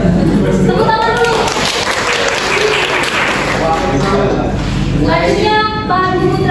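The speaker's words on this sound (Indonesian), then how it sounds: "Tepuk tangan dulu." A classroom of students applauds during a microteaching lesson on lathe cutting tools, steady dense clapping mixed with chatter and voices throughout.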